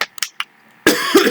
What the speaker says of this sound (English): Sorry, I just had to cough.